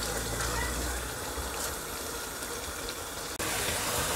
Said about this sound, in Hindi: शोरबे वास्ते जितना असा की चाहिए उतना पानी पाना